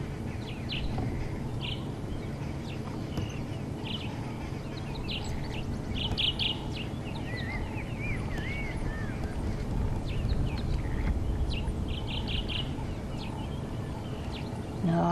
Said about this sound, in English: I can hear it chirping.